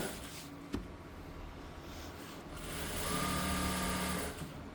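A sewing machine stitches shirt pieces nearby, starting with a click and a low background hum, then whirring up into a steady, louder run of rapid needle strokes before slowing, with no one talking.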